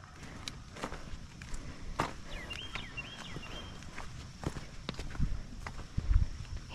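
A horse walking behind a handler during training, soft irregular hoof thuds and footsteps at moderate distance, with faint bird chirps in the background.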